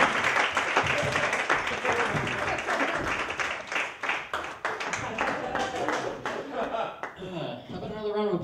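An audience at a comedy club applauds a comedian with dense, loud clapping that thins out toward the end, while a host speaks over it.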